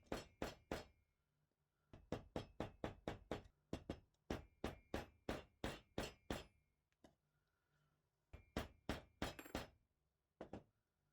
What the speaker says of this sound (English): moved on to squaring up the carriage slot with a chisel